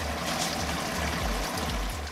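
Water running steadily into a sump container for a homemade hydrographics dip tank, a continuous close trickling rush with a low rumble underneath, no voices.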